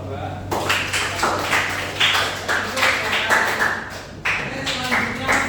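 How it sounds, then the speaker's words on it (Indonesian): Classroom group applauding a team of students at a prompt engineering lesson, a steady burst of clapping from many hands that lasts the whole stretch with slight swells and dips. "beri tepuk tangan untuk kelompok 2"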